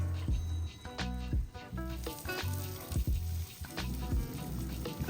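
Ribeye steaks sear on Grill Grates over a Grilla Grills Silverbac grill, with a steady loud sizzle and crackle and repeated scraping, clattering contacts from tools shifting the meat.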